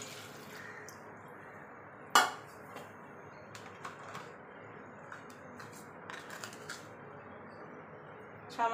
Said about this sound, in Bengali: এবার প্রেসার কুকারে আলুটা দিয়ে দেব